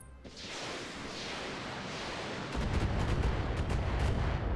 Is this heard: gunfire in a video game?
yes